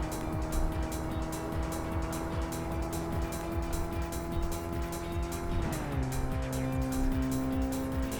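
A turbocharged racing car engine in the Tokyo Xtreme Racer 3 video game drones loud and steady at high revs, then drops in pitch partway through and settles lower, with faint tire noise beneath it.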